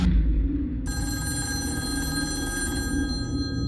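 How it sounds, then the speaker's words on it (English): A telephone bell rings loudly after a short low rumble and keeps ringing steadily for about three seconds, with no voices. "The phone rang"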